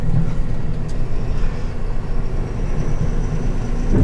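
A 2020 Ford F-650 truck driving, heard from the cab as a steady, heavy low engine drone and road rumble that holds at a constant loud level with no talk.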